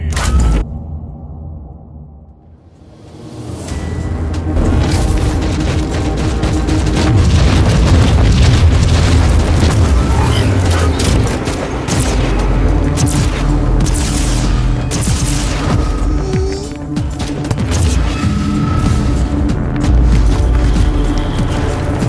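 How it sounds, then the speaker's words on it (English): Grenade blasts and heavy combat in the video game Warhammer 40,000: Inquisitor - Martyr, a loud sustained barrage of booms and crashes rolling on for many seconds after a brief quiet start. "That grenade could be useful now."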